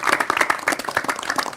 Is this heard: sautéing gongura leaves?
no